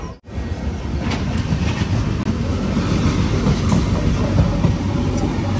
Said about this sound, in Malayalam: അതിലൂടെ ഏതോ ഒരു വണ്ടി പോകുന്നുണ്ട്.